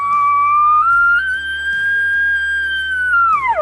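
Elk bugle, a single long sustained high whistling tone that rises, holds steady and then drops off at the end, loud and close with no other sounds.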